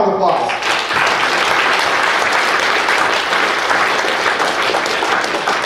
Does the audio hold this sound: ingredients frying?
no